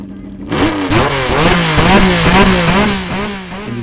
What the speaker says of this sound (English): the sudden shifting of a six-cylinder competition car engine from an idle state to a high RPM state before the start of a race